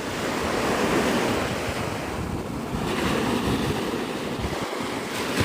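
Surf breaks and washes continuously on the shore at Navarre Beach, Florida, mixed with steady gusting wind buffeting the microphone, close and fairly loud with no voices.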